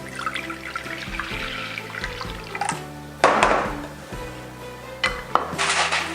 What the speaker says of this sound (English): we're just going to add a little water.